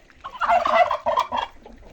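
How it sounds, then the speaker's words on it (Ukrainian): A brief burst of nasal, gabbling goose calls up close, lasting about a second and a half. "Прийшли гуси."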